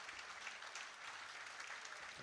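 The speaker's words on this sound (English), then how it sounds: "You see the crowd here as they really appreciate all the hard work that Paul Brady has put into this game" Spectators applaud a handball match win at the World Championships in Ireland, a sustained, even burst of clapping from an indoor crowd, moderately distant.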